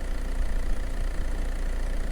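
A motorcycle engine idles in a video game, a steady low rumbling putter with a faint knocking texture, continuous and close.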